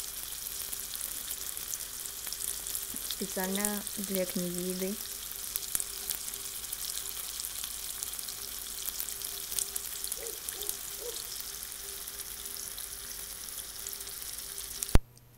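Sausages fry in a pan with a continuous soft sizzle and crackle, close and steady. Someone speaks briefly over it early on, and a few faint voice sounds come later.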